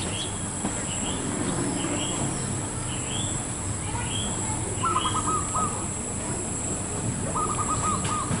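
A zebra dove (perkutut) calls from high in a tree, its short trilled coos repeating at intervals over steady outdoor background noise, with faint chirps from other birds.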